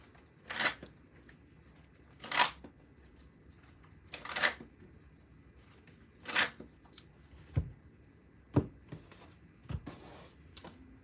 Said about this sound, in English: I'm gonna shuffle, see what comes up.